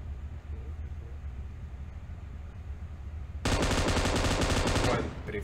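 M249 light machine gun fire in PUBG Mobile: a loud, dense burst of automatic shots lasting about two seconds, breaking in over a low rumbling background.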